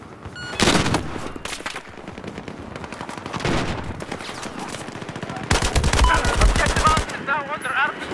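Sustained bursts of RPK-12 light machine gun fire in Battlefield 4 on PC, loud and close, with rapid rattling volleys separated by short pauses and a heavy final stretch of continuous shooting.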